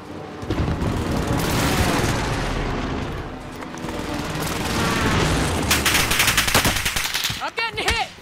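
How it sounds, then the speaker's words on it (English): Loud booming explosions and rapid gunfire in Call of Duty: Modern Warfare, a sustained dense barrage with sharp blasts toward the end and a brief voice at the close. "Allied precision airstrike incoming"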